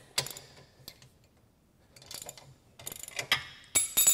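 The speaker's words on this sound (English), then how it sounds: "we're going to loosen up that anti-rattle bolt" A ratchet works on the anti-rattle bolt of a Curt four-bike hitch rack on a 2013 Chrysler Town and Country, giving short clusters of close, crisp clicking separated by silent gaps.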